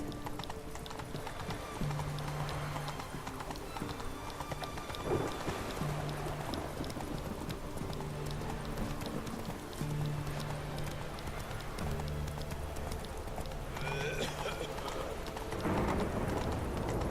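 A horse gallops in The Witcher 3: Hearts of Stone, with steady clip-clop hoofbeats running through the scene under game music, other ambient sounds and a brief whinny.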